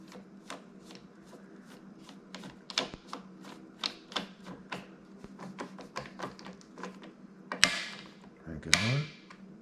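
A Torx screw is driven into a Tikka rifle grip, making a run of sharp, close ratcheting clicks and light mechanical taps in an irregular rhythm, ending with a couple of louder scraping clacks.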